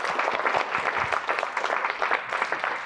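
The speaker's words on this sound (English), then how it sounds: "give yourselves a round of applause" Audience applause fills a music education session on building classroom community, a steady dense patter of many hands clapping at moderate volume with no talking over it.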